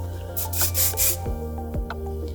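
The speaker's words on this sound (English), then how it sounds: "I'm going to be using the Enjoy Hair Finishing Spray" Three quick bursts of aerosol hair finishing spray hiss close up over a low hum, followed by faint soft handling sounds.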